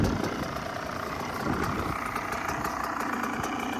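A newly bought motorcycle engine idles close by, a steady low rumble with a fast, even mechanical pulse and no speech.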